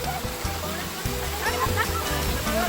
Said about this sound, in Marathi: आता गडूळ पाणी येतंय वरून.